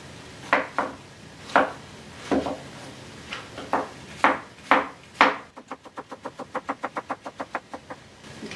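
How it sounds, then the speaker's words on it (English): An average-size zucchini being cut with a knife on a board, first a series of separate thuds, then a quick, even run of rapid chops close by, with no talk. "that's the end of my chopping"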